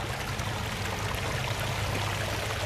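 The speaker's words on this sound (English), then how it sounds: "Right up here with the sound of a waterfalls." A newly built backyard waterfall stream flows and splashes in a steady, even rush of water, close and moderately loud with no voices.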